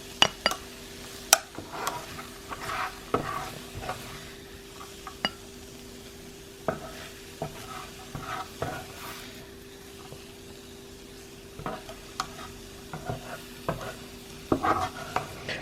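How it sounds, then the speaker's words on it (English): A non-stick spatula scrapes banana curry rice off an unplugged Dash 8-inch electric griddle into a bowl, making soft scattered scrapes and light clicks against a quiet background. "I am going to now scoop this out into a bowl."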